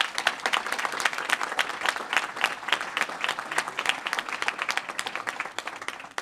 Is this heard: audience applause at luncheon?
yes